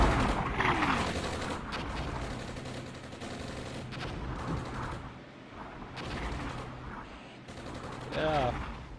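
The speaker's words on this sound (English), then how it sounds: "And the mortars are falling." Mortar rounds fall and burst across a battlefield in the Armored Brigade war game, a steady clatter of distant explosions and rumbling impacts that continues throughout, with a voice talking over it.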